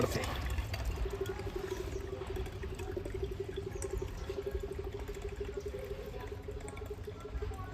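Coconut water pours out of a fresh coconut in a steady, continuous gurgling stream, close by, running for several seconds without pause.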